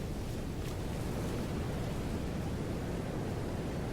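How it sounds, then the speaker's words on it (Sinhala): Ocean waves at Hikkaduwa beach wash ashore in a continuous, dense roar of surf that stays broad and steady without breaks. "ඊළඟේ වතුර පාරක් යනකොට ලස්සන බලන්නකෝ එතන."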